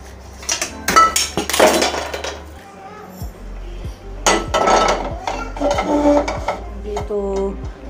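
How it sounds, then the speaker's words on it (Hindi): A metal cooking pot (patila) is handled and set down in an outdoor village kitchen, producing repeated loud metallic clanks and scrapes in irregular bursts, with a low steady hum running underneath. "तो पतीला मैंने इधर रख दिया"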